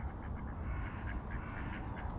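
Ducks being fed at a lake in Solnechnogorsk quack repeatedly in short, overlapping calls close by, against a constant backdrop of outdoor noise.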